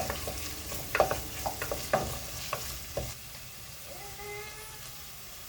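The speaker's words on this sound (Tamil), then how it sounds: "கட் ஆனியன் கட் பண்ணிட்டு அது வதக்க ஆரம்பிச்சிட்டேன் கூடவே பச்சை மிளகாவும் போட்டு நல்லா வதக்கிக்கலாம்" Chopped onions and green chillies sauté in a hot pan, giving a low steady sizzle broken by several close scraping stirs of a spatula in the first seconds, then settling into quieter frying with no one speaking.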